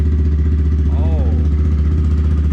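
A Honda Grom motorcycle fitted with a Yoshimura exhaust and no silencer or dB killer runs with a loud, steady, close engine drone and a brief rising squeal partway through.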